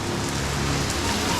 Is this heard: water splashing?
no